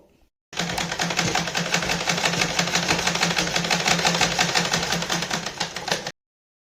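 An electric sewing machine stitches along the edge of a piece of fabric, starting abruptly and running at a fast, even mechanical chatter up close, then stopping sharply into silence.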